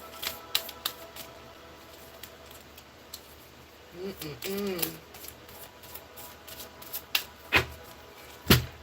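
Tarot cards being shuffled by hand give soft, scattered flicks and rubs, with a longer riffling burst midway and sharper taps near the end, quiet and close.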